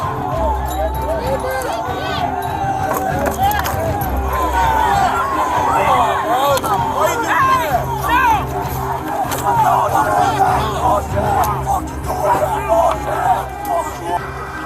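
An agitated crowd outside the U.S. Capitol on January 6, 2021 keeps up a constant loud roar of shouting and overlapping voices for the whole stretch, with people talking and yelling throughout.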